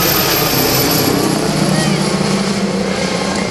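An MD902 Explorer helicopter with a single gas turbine engine flies at a rotorcraft airshow, producing a loud, continuous roar of rotor and engine noise with a steady turbine whine.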